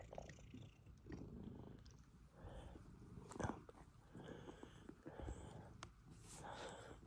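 A cat purrs close up in a soft, steady rumbling rhythm, with faint chewing or licking noises mixed in and no talking.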